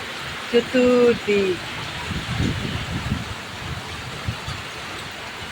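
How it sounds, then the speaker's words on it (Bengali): A heavy downpour mixed with small hail falls during a nor'wester storm, a steady dense patter all around. A short spoken phrase comes near the start, then the rain continues alone. "বৃষ্টি হচ্ছে মুষলধারে, আর শিল পড়ছে"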